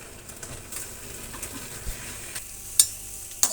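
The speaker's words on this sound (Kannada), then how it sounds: "ಇಷ್ಟನ್ನು ನಾವು ಆಯಿಲು ಸ್ವಲ್ಪ ಹಾಕ್ಕೊಂಡು ಫ್ರೈ ಮಾಡ್ಕೊಳ್ಳೋಣ" Black pepper and cumin seeds frying in a little oil, giving a soft, steady sizzle with occasional stirring scrapes and faint clinks from the pan.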